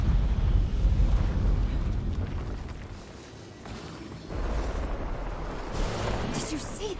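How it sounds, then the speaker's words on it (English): A bloodstone explodes in the Guild Wars 2 video game with a deep, roaring rumble. It holds strongly, dips briefly partway through, then swells again into a sustained, close boom. "That bloodstone explosion seemed to trigger some sort of magical echo."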